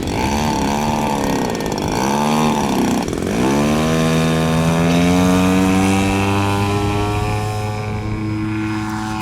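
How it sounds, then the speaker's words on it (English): A radio-controlled model airplane with a freshly overhauled 30cc gas engine with a new carburetor flies overhead. The engine buzzes loud and steady, with its pitch dipping and rising as the plane passes and banks. "It's a really nice flying model that has scale-like performance on a 30cc gas engine."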